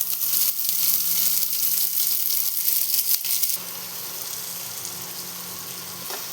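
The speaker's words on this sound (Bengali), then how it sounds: "এটা আমি এখন কড়াতে দিয়ে দেবো।" Three large chopped onions hit hot mustard oil tempered with black cumin in a wok, a loud dense sizzle that eases to a softer steady fry about halfway through.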